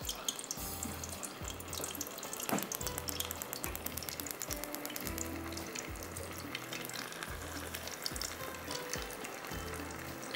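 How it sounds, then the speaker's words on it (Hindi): Chicken wings frying in hot oil over a low flame, a steady close sizzle and crackle with bubbling bursts throughout, no voices. "यहाँ पर हमने ऑयल रख दिया है जिसके अंदर हमने इसको फ्राई करना है"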